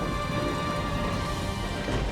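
Heavy rain pours down in a steady, loud hiss with no pauses, with a faint sustained tone running beneath it.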